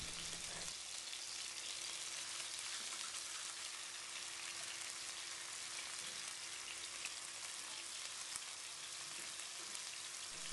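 Meatballs fry in a Teflon pan with a constant dense hiss and crackle, close and steady for the whole stretch, with no voices.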